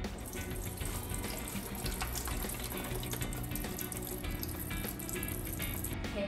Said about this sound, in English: fill the water to the max line